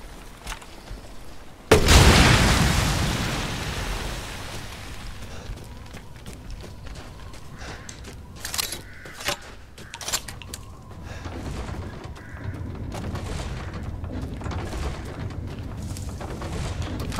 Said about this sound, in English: Oh, grenade launcher.